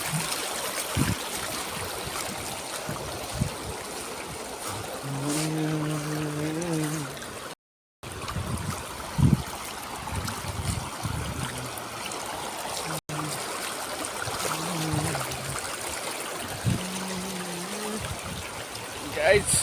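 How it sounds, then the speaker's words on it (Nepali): The Trishuli River in Nepal flows with a steady rushing hiss of moving water, heard continuously beneath intermittent talking and a few tonal sounds, with one brief dropout midway. "त्रिशुली नदी बगिसकेको छ यहाँ।"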